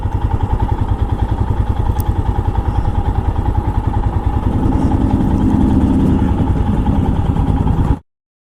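A Royal Enfield Himalayan single-cylinder 24-horsepower motorcycle, 2022 model, idles close by with a steady, loud, thumping rhythm that holds for about eight seconds before cutting off abruptly.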